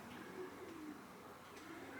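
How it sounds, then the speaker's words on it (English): Young racing pigeons coo softly inside a stock loft, low rolling calls repeating under a quiet background hum, close but faint. "now there's 27 young birds in here"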